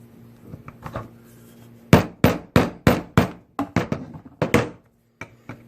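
A hammer strikes a Kawasaki JS550 jet ski starter in about a dozen sharp, close metallic blows. A few light taps come first, then a steady series of harder hits with short pauses between them. No talking.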